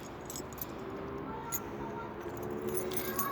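A bunch of keys jangles and clinks softly in a brief, quiet burst of light metallic rattling, during a bicycle ride.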